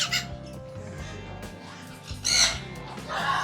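Golden-collared macaws calling at a parrot breeding farm, with loud harsh squawks bursting in near the middle and again toward the end over a busy background of lower bird noise.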